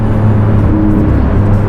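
Maserati MC20 supercar engine pulling hard in third gear around 3000 rpm, a loud, steady low rumble with a constant interior drone and no talking.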